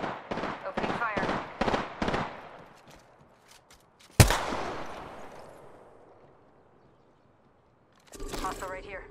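Gunfire in Apex Legends: a rapid string of close automatic shots, then one loud sharp blast that rings out and fades, with a character voice speaking at the end.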